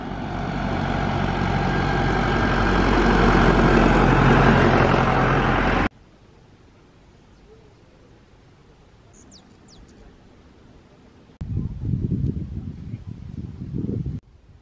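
A loud rumbling tractor engine drones for several seconds on an Andean road, then cuts to a quiet outdoor background, before another low engine rumble returns briefly.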